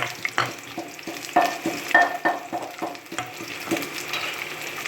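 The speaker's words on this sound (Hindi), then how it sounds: "ये हमने ऑयल डाल लिया है। अब इसमें डालेंगे प्याज।" Onions frying in oil in a pan for chicken karahi, with a soft sizzle under repeated clattering stirs and scrapes of a spoon, close and moderately loud.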